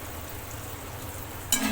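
Chillies and tomatoes fry in hot oil with a soft, steady sizzle close by, and a brief louder hiss bursts in near the end; nobody speaks.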